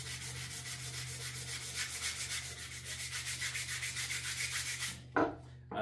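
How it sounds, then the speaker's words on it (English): Emery cloth steadily rubbing and scrubbing a Stanley boys axe head during restoration, a close, continuous rhythmic abrasive scratching that stops near the end with a brief handling knock. "we're going to take the magic that is emery cloth. Just going to clean it up a little bit."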